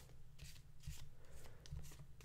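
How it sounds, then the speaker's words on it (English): A tarot card deck is shuffled close by, giving soft rhythmic riffles and papery flicks in short bursts, quiet and intimate with no talking. "giving the deck a good shuffle"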